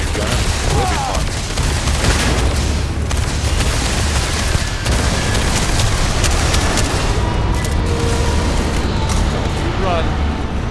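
Loud, dense gunfire from a new weapon in the Starfield video game rattles on continuously in overlapping bursts and booms, with voices mixed in throughout.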